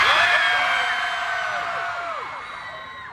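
A large audience at a VidCon stage performance screams and cheers together, a loud sustained roar of many voices with high whoops that slowly fades over a few seconds.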